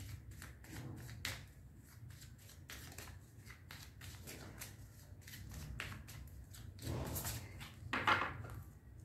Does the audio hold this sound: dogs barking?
no